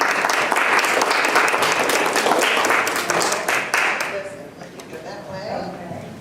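Audience clapping loudly and steadily to welcome a guest speaker at a talk on African American Civil War soldiers and sailors, then fading out into scattered claps and murmurs.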